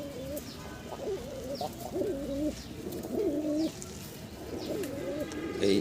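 A male fancy pigeon coos repeatedly in rhythmic, throaty bursts nearby, with faint background chatter and small rustles between calls.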